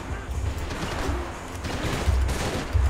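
Video game gunfire from Max Payne 3 fills the moment with a dense, continuous burst of shots and crashing action noise, loud and sustained throughout.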